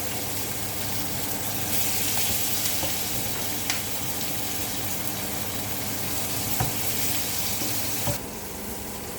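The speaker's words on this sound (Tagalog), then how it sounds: "May style pa sa pagpiprito ng tuyo ang anak ko." Dried fish frying in hot oil makes a dense, continuous crackling sizzle close by, with a few faint clicks and taps of a utensil against the pan.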